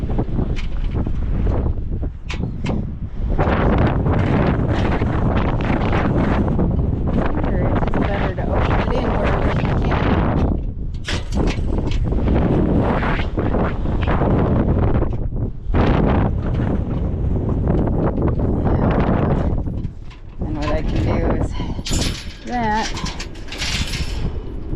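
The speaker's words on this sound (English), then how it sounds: "right now the wind's blowing bad enough" Strong wind roars and buffets the microphone in loud, uneven gusts, with brief lulls between blasts.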